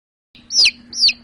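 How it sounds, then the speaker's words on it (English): A chick gives two quick high-pitched peeping chirps in close succession, clear and close against a faint low hum, with no talking. "chick,"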